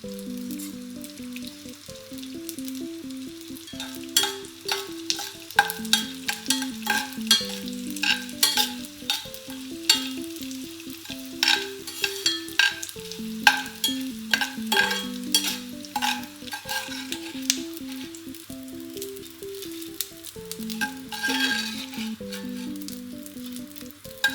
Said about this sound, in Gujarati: બધો ગુંદ સાથે ના ઉમેરતા થોડો થોડો ઉમેરી અને તળવાનો છે